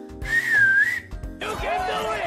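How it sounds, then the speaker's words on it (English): Two loud whistled notes, the first a sustained wavering tone, the second lower and breathier after a short pause, with background noise. "I was actually able to get a whistle."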